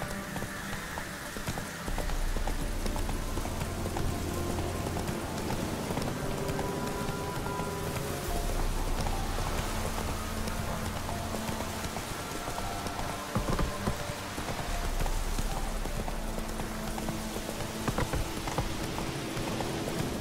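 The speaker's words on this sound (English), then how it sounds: "Whoa there, Roach" Horse hooves clip-clop steadily across the ground in The Witcher 3, the even rhythm running throughout over a constant rain-like wash of background ambience.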